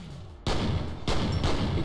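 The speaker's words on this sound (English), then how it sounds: "He threw a grenade, didn't he?" A grenade detonates in the first-person shooter F.E.A.R. Perseus Mandate, with two loud, close bursts of broadband noise less than a second apart, each followed by a sustained roar, and no talk.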